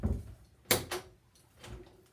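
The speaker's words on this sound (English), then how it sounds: "push the door shut, there we go" A door with a newly installed doorknob is pushed shut, giving a sharp latch click followed by a second thud and a fainter knock, close by in a quiet room.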